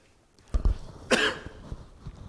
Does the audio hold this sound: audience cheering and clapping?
no